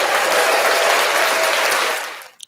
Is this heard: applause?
yes